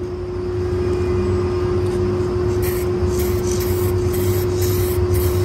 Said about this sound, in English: I'm gonna put the first coat of clear.